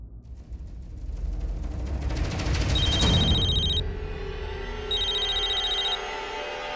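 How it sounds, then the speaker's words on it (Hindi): A mobile phone belonging to a woman named Nishi rings at five o'clock with two short bursts of high electronic ringtone over a dense, steady background of music and room noise. "मेरा नहीं, निशी का फोन बज रहा है।"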